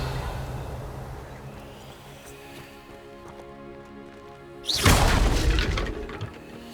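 A Revelio spell cast in Hogwarts Legacy rises as a sudden whooshing burst after a steady humming stretch, then fades out slowly.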